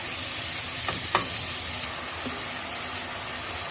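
Chicken sizzles steadily in a hot pan, a constant close frying hiss with a few soft scraping stirs partway through; no talking.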